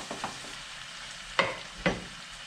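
Shrimp cook quietly in a pan with lemon juice, with a soft steady sizzle and two distinct scraping stirs near the end.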